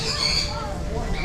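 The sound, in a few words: duck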